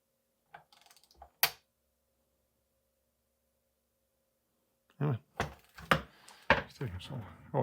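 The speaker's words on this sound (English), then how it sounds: "let's start off with torquing damper side 4 Newton meters" A torque wrench tightens the damper side of a RockShox SID Select 35 fork to 4 newton metres, giving a few sharp, close mechanical clicks. A long quiet gap follows, then a person talks.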